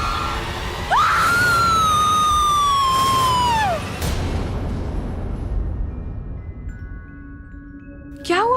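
A woman lets out a long, high scream that falls in pitch over about three seconds, loud and close in a dramatic indoor scene, followed by a noisy rumble and a brief sharp cry at the end.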